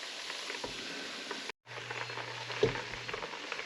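Butter browning in a hot pan on medium-high heat, a steady close sizzle and crackle with a brief gap, and a spatula scraping and stirring through it; no voices.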